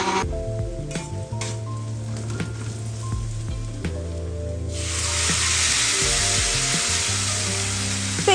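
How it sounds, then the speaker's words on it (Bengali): Paste of onion, ginger, garlic, chili and tomato added to hot oil in a pan, after cumin seeds and onion were fried: stirring scrapes and clatters at first, then a loud, steady, close sizzle takes over. "পেঁয়াজ আদা রসুন লঙ্কা আর টমেটোর সেই পেস্টটা আমি এর মধ্যে দিয়ে দিয়েছি"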